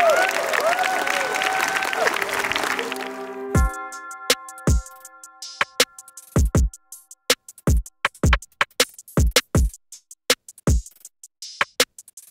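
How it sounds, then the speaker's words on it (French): An audience applauds and cheers six students at a showcase event, a loud wash of clapping with cheers and voices that gives way to a sparse series of sharp, separate, close claps. "Je vous demande d'applaudir et d'encourager nos 6 étudiantes de Studio Lezé."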